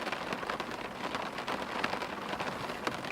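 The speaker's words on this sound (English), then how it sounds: "Can you hear that rain?" Steady rain falls on a surface during a cold spell, a dense, continuous patter of drops with scattered louder splats, close and fairly loud, with no voices.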